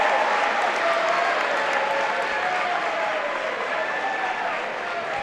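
A crowd in a college gym applauds during a Swarthmore versus Dickinson men's basketball game. The clapping and cheering are dense and continuous, with a few shoe squeaks audible through the noise.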